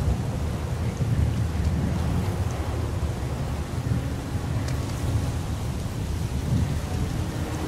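Rain and thunder in the video game Heavy Rain: a steady, close downpour hissing on surfaces, with low rolling rumbles of thunder underneath throughout, and no voices.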